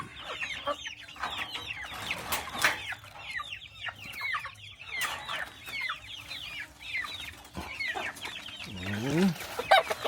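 Several Silkie chickens cluck and chatter busily, near and fairly loud, with a brief squawk toward the end.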